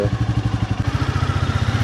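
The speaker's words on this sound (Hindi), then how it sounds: "मौसम ठीक है तो मैंने गाड़ी की जगह आज बाइक ही निकाल ली" A motorcycle engine idles with a steady, rapid, even thump, close and fairly loud throughout.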